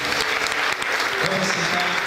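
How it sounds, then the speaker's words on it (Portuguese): Church congregation applauding during a Baptist worship service, a dense, loud burst of clapping filling about two seconds, with a little voice mixed into the crowd noise. "Aplauda o Senhor."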